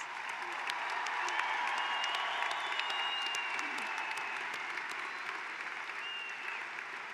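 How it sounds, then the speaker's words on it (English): A large commencement crowd applauds steadily for several seconds, a dense wash of clapping that fades slightly toward the end. "Please join me in showing our appreciation with a round of applause."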